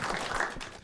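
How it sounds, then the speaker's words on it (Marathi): A short, steady wash of loud clapping from a group applauding for Priyanka on a Marathi comedy show, filling the whole moment without any talking. "एकदा जोरदार टाळ्या झाल्या पाहिजे प्रियंकासाठी"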